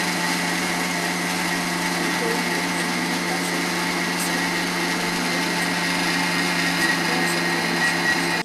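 A mixer grinder churns cream into butter at high speed, a steady, even motor drone that runs without pause, close by, with no talking.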